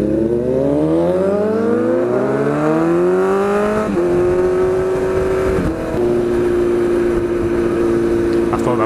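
A loud straight-piped Kawasaki Z900 motorcycle pulls away on a town street, its exhaust rising through several revving gear pulls and then settling into a steady cruising drone.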